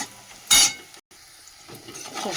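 Vegetables fry in a pan with salt and turmeric: a soft, steady sizzle, one brief louder clatter of a utensil against the pan, then a short dropout before the quiet frying carries on.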